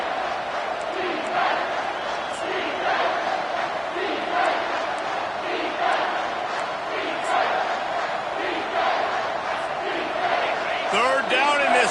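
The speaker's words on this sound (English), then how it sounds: "Third down, and this crowd is tearing the lid off this place." Loud stadium crowd roaring and cheering at an American football game on third down, a dense continuous roar with rising swells under a play-by-play commentator's voice.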